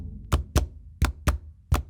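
Five sharp, crisp finger snaps spaced irregularly, close and dry, each a quick bright crack with nothing in between.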